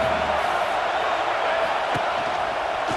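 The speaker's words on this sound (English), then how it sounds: "how nice is it to have the home crowd going absolutely bananas?" A home crowd roars at a Texas A&M vs Michigan college football game. The stadium noise is a steady, loud, broadband wash that holds for the whole stretch without a clear peak.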